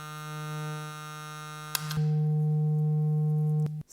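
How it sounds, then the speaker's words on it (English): A steady sine wave tone from a Eurorack modular setup running through a Retro Mechanical Labs Electron Fuzz CV pedal, a sustained pure hum with a brief click and shift partway, then cutting off abruptly. "This is still our sine wave."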